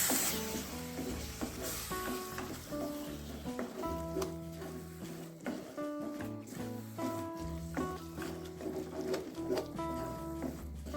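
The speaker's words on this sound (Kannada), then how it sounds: "ಮಸಾಲೆ ಚೆನ್ನಾಗಿ ಫ್ರೈ ಆಗಿದೆ." Masala with green chillies frying in a pan for a Bangalore brinjal gravy, giving a soft, steady sizzle with occasional stirring clicks beneath continuous background music.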